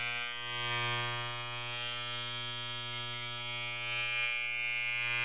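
A very old Lady Ronson electric razor, kept in nice condition and with no on-off switch, buzzes steadily and fairly loudly while plugged in, a constant motor whine with mains-like hum running for the whole stretch.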